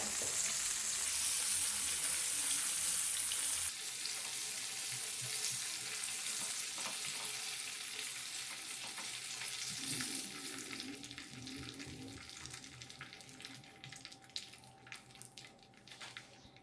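Popcorn chicken deep-fries in hot oil with a loud, bright bubbling sizzle that fades to quieter crackles and scraping stirs as pieces are lifted out.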